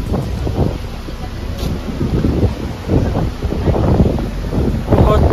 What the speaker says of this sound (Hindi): तेज हवा है कसम से, तो बहुत ही तेज हवा चल रही है।